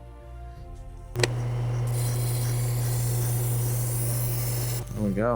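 Steady grinding rasp of a knife edge being sharpened and deburred on a Tormek T-8 wheel, a continuous loud hum with a brief voice and a squeaky sound at the end.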